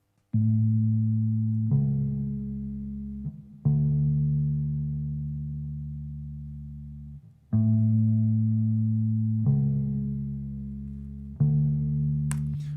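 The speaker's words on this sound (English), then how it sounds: "bass just sounds like a sine wave" Smooth, pure-toned bass notes, each sustained for a couple of seconds and slowly fading, played alone in a simple repeating pattern.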